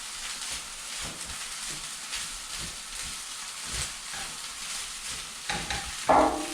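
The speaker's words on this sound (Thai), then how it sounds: "เดี๋ยวขอผัดอีกสักนิดหนึ่งนะคะสักน้อยหนึ่งค่ะ ผัดอีกสักน้อยหนึ่ง" Food stir-fried in a pan, a continuous close sizzle with intermittent scraping strokes of a utensil and a brief louder clatter near the end, no voices present.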